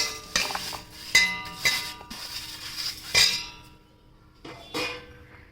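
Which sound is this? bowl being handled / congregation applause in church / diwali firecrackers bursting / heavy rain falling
bowl being handled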